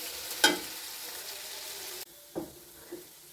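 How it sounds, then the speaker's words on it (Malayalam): Jackfruit seeds fry in a pan with a soft, continuous sizzle. A sharp clink rings out near the start, and after a sudden drop in level a couple of duller knocks follow, with no one talking. "നമ്മൾ ഫ്രൈ ചെയ്യാൻ പാനിനകത്തിട്ട് ചക്കക്കുരു ഫ്രൈ ആയിക്കൊണ്ടിരിക്കുന്നു."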